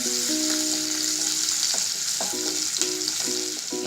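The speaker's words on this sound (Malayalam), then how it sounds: "ഞാൻ ആദ്യം ഈ ഇഞ്ചിയും പച്ചമുളകും ഇതൊന്ന് വഴറ്റിയെടുക്കാം." Ginger and green chillies sauté in hot oil in a pan for an unnakka chemmeen fry, giving a steady, loud sizzle broken by a few scraping stirs, with a high, thin tone sounding in the background.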